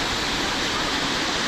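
A waterfall in Guadeloupe roars as a loud, continuous broadband rush, steady and close, with no voices over it.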